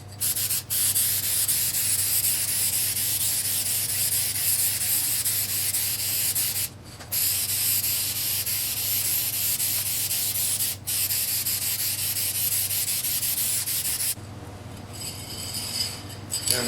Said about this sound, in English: and then I'm gonna spray it with this vinyl spray